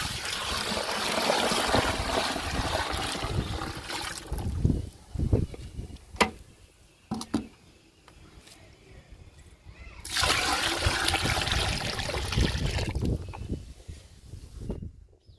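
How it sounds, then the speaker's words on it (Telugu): Water gushes and splashes into a bucket of coconut cake for a plant fertilizer liquid, two long loud pours separated by quieter trickles and handling knocks. "కొబ్బరి చెక్కలో వాటర్ పోస్తున్నాను"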